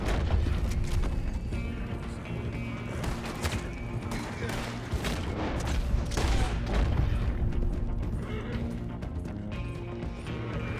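Red Dead Redemption 2 gameplay brings a dense run of gunshots and booms over horse hooves and whinnies, busy and continuous throughout, with game sound effects layered in the mix.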